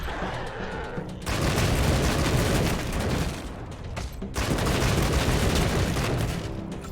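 Gunfire in the post-apocalyptic combat game Wasteland 3, dense bursts of shots and impacts rolling in two loud stretches with a brief lull between them, no voices over it.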